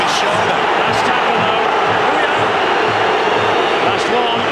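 A restless rugby league crowd in Wigan during an Ashes Test between Australia and Great Britain, a dense, steady roar of many voices with faint rhythmic thumps underneath.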